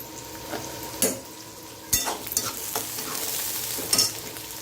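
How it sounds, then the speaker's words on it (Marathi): Chopped onion frying in hot oil for an eggplant dish, a low steady sizzle broken by several sharp scraping stirs of a spatula against the pan, close and fairly quiet, with no voices. "तेलामध्ये तेल तापल्यावरती मी कांदा कापून टाकलेला आहे मग त्याला चांगला लाल भाजणार आहे"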